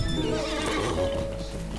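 A horse in the online game Lord of the Rings Online whinnies loudly while its hooves clip-clop, a short close burst filling the moment with no speech over it.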